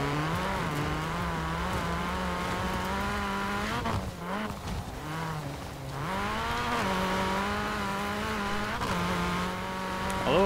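Ford Focus RS rally build in Forza Horizon 4, its engine droning loud and steady with rising and falling revs and tire squeal, with no talk over it.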